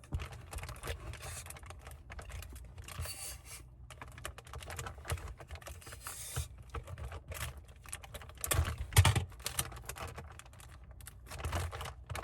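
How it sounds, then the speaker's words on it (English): Tape being pulled and wrapped around a mushroom grow container, a steady soft crackling patter with small sticky tearing sounds and a few louder taps, close and continuous without talk. "I'll tape all the way around. I'll keep taping up."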